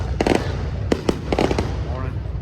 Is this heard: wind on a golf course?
no